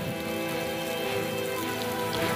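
Heavy rain pours down during flooding in Pekalongan, a dense, continuous hiss of drops hitting surfaces, steady and loud throughout with no voices.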